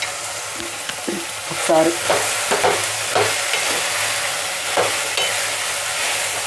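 Potato pieces stir-fried in a pan for cauliflower-potato masala curry, a close, continuous sizzle with uneven scraping and stirring strokes; a brief word is spoken.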